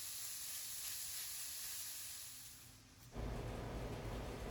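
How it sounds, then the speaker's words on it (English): Bacon sizzling in a heated pan as its fat renders, a faint steady hiss that dips briefly, then jumps to a louder, fuller sizzle. "put the bacon on a heated pan and render fat"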